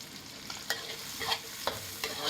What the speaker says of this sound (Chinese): 那个都是胖哥啊炸的肉末啊！